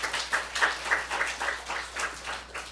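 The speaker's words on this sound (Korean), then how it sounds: "우리 하나님께 박수 올려드려요." A church congregation at a Sunday worship service in Seoul claps together in a steady, rhythmic beat. The claps come fairly close and even for several seconds, with no talk over them.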